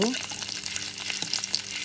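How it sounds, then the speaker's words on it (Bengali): Shrimp kofta balls fry gently in a pan over low heat, a soft, even crackling sizzle with a few small pops, close by and without talk. "একটু সামান্য ভাজা হলে উল্টে দিয়ে অন্য পিঠটাও আমি ভেজে নিব"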